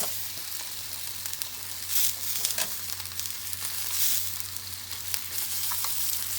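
Sausages frying in a pan give a constant crackling sizzle, with louder spits and bursts of fat here and there and a low steady hum underneath.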